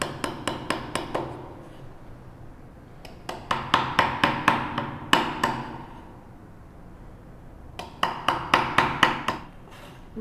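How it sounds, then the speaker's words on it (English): A chisel is struck with a mallet to cut the lid of a wooden tissue box. Three bursts of sharp, evenly spaced knocks ring out, five to eight blows each, with quiet pauses between the bursts. "Keep the chisel straight."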